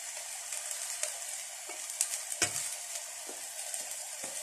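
Rice for biryani cooking in a pot on the stove, giving a steady, close bubbling sizzle with occasional soft pops and light stirring knocks, no voices.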